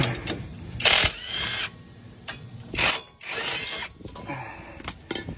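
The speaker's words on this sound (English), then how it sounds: "That way we can get the impact hammer in here and zip them out." Short bursts of a pneumatic impact wrench removing brake bolts on a 2004 GMC Yukon, two loud rattling blasts with quieter mechanical clatter and tool handling between them, no talking.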